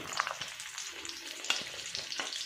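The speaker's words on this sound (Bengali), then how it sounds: "চিকেন প্যাটিগুলো এবার ভেজে নেব। তেল দিয়ে দিয়েছি কড়াই, তেল গরম হয়ে গেছে" Chicken burger patties fry in hot oil at medium heat in a wok, giving a soft, steady sizzle with small crackles and pops, quiet and close, with no voices.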